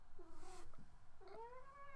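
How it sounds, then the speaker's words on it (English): A cat gives two drawn-out meows, the second rising and wavering, heard fairly close over a low, soft background murmur. "There's a cat, though."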